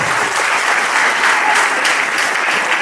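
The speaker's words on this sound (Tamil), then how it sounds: "உங்க கைத்தட்டல் தான்" Sustained audience applause fills a debate-forum hall at an Abdul Kalam birthday celebration, a dense, steady wash of clapping from many hands with no break, close and loud throughout.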